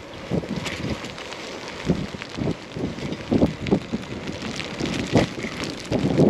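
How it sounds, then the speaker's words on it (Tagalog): Rain falls with gusting wind outdoors in a downpour, producing a constant wet hiss broken by irregular buffeting thumps of wind against the microphone, and no one speaks. "Maulan, maulan, maulan."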